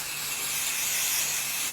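An aerosol can of spray baste mists over quilting fabric pieces in one continuous, close hiss lasting under two seconds, cutting off abruptly at the end.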